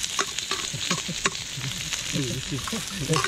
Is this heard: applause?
no